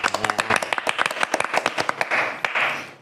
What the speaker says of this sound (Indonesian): Tepuk tangan dulu seberata